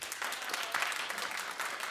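Studio audience at a daytime talk show breaking into loud, sustained applause, a dense wash of clapping filling the whole moment with no break.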